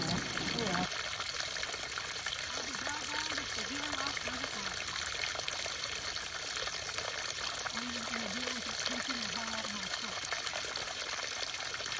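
A stream in the Great Smoky Mountains rushes and splashes in a constant broadband flow, with a voice talking faintly underneath at a couple of points.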